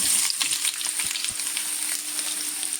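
Garlic frying in oil in a pan as round tomato slices go in, giving a steady close sizzle with light crackling and a few soft thuds, no voices.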